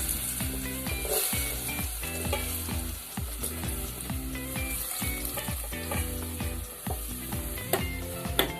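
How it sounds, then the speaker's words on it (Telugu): Pumpkin pieces fry in ghee for pumpkin payasam, giving a continuous crackling sizzle up close while rhythmic background music plays throughout and nobody speaks. "ఇదే నెయ్యిలో ముక్కలు వేసేసుకుందాం"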